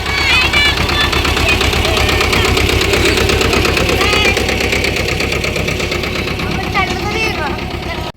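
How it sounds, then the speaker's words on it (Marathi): A tractor engine runs on a farm field, a close, loud, steady idling chug with a rhythmic knock throughout, while people talk over it. "इकडं मामा ट्रॅक्टर मध्ये फिरवतोय."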